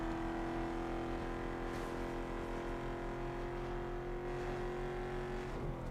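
A soccer-mom style SUV engine idles and cruises in Need for Speed Underground 2, a steady, even drone with strong constant tones and a brief whoosh, loud and continuous without talk.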